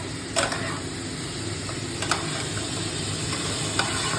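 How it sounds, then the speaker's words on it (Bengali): Fish pieces fry in a pan and are stirred, making a steady loud sizzle at close range with a few sharp scrapes of the utensil, and no talking. "এবার দিয়ে দেবো হচ্ছে মাছগুলো। এই যে দিয়ে দিলাম, একটু নাড়াচাড়া করবো।"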